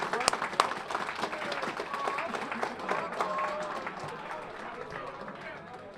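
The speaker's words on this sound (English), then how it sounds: "Can we give them a big round of applause?" Luncheon audience at a high school Turkey Bowl team event applauds the coaches, a moderate wash of clapping under and between indoor chatter, steady and fairly close throughout.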